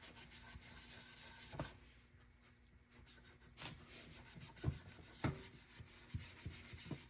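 A cloth rubs and wipes over an old Ford Motorcraft two-barrel carburetor, giving quiet, uneven scuffing strokes with a few sharper knocks of the part being handled, all close and fairly faint.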